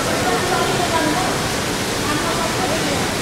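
Devi's Falls waterfall in Pokhara roars as a steady, dense wash of rushing water, loud and continuous throughout with no breaks.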